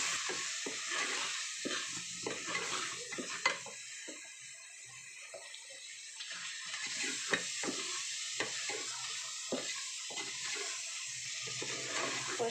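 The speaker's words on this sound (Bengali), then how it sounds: "এইবারে সমস্ত মশলাগুলোকে ভালোভাবে কষে নেব।" Whole cardamom, cloves, cinnamon and bay leaf fry in oil in a pan for chicken kasha. A continuous sizzle runs throughout, broken by occasional scraping stirs, and no one speaks.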